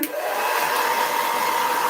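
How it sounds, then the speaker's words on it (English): A T3 blow dryer rough-drying hair gives a steady, close, loud whooshing roar that holds evenly for the whole stretch, with no talking over it. "I'm just going to rough dry my hair. Here I just have a T3 blow dryer."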